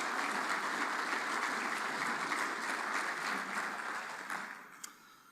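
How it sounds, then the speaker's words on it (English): Audience applause at a community dialogue meeting, steady and dense clapping from a seated crowd that holds for about four seconds before tapering off, with no voices over it. "So a little round of applause to this group."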